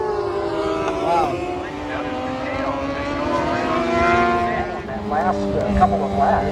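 Vintage motorcycles race past on a track at an AMA vintage event, engines buzzing in rising and falling whines as bikes pass nearby, several overlapping engine notes sweeping up and down in pitch.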